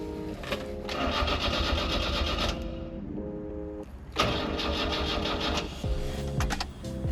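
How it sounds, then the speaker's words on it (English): A mini truck engine cranks and turns over in several loud, rhythmic, churning bursts, with short pauses between them, then appears to catch and run. The sound is close and continuous, with no speech. "I don't think we'll hear it crank today."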